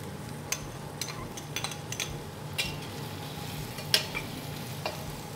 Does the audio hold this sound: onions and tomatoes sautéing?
yes